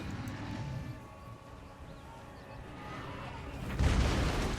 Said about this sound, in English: they just blew up their own hell cannon